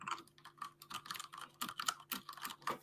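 Typing on a computer keyboard during a live online session, a rapid irregular run of close, light key clicks and taps with no speech.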